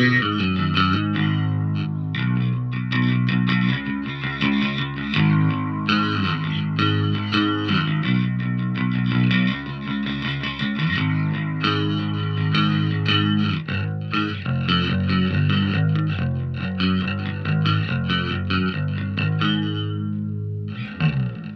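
Bass guitar through an inexpensive bass amp on its modern setting with chorus plays a continuous line of thick, shimmering, slightly gritty notes, steady and close throughout with no voices.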